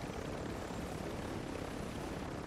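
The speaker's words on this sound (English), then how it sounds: "Helicopter's so flipping loud" Helicopter rotor noise from the video game Warzone 2, a loud, steady broadband thrum and rumble that fills the whole stretch without letup, with no voices over it.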